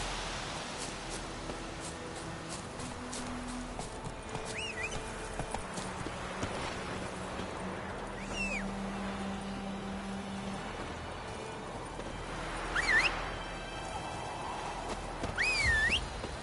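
Roach, a horse in The Witcher 3, gallops in steady clip-clop rhythm over ambient game music, with occasional swooshing effects rising near the end and no speech.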